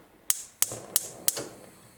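A stovetop heat control being switched on while making homemade shampoo gives four sharp, evenly spaced mechanical clicks like a ratcheting knob, each with a short fading tail, close and fairly quiet.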